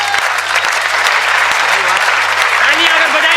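An audience at a Hindi humorous poetry recital applauds in a loud, dense burst of clapping, with faint voices and brief tonal sounds mixed in underneath.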